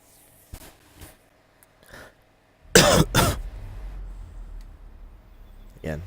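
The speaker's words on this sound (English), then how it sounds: "Again, sorry about the cough." A few faint sniffs lead into a sharp pair of close, loud coughs near the middle, followed by a low background rumble and one more brief throat sound at the end.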